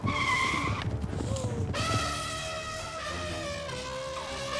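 A vehicle in a video game reverses fast, its engine whining at a high pitch under music and game effects. Sliding tones rise and fall, and the mix stays loud and steady throughout.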